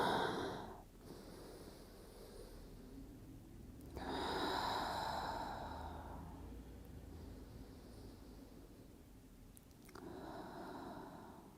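Slow, deep breaths drawn during a pilates class with the forehead resting on the floor, three long broadband inhale and exhale swells at a steady, unhurried pace, close and quiet with no talking.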